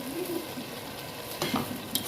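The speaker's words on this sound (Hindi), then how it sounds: "अब चीनी को अच्छी तरह हम भुनेंगे, अच्छी तरह पानी खुश्क करना है" Sugar being stirred and fried into carrot halwa (gajar ka halwa) in a pan: a continuous quiet sizzle with scraping stirs of a spoon, close and steady, with no talk.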